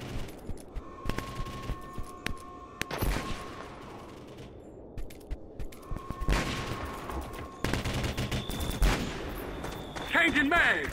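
Gunfire in the video game Conflict Global Reunion: sharp bursts of shots and machine-gun fire come in clusters, loud and close, separated by short quieter gaps, with brief voice callouts in between.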